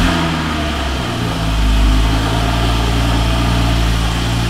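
A car engine is started with the key and then idles steadily, loud and close, with no one speaking; the ignition has been modified, which makes it run louder than a stock car.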